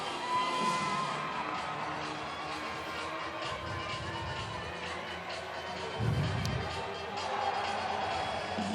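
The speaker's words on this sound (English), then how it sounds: "crowd is really getting into things on the far side" A soccer stadium crowd at the Cascades Cup roars from a distance in a broad, sustained wash, with swells of cheering and yelling, while a commentator's voice talks over it.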